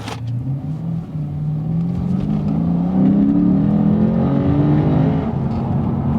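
A 2015 Lexus RC F engine accelerating hard on back roads, a loud, close, rising engine note that climbs steadily through the revs into a sustained roar, with no talk.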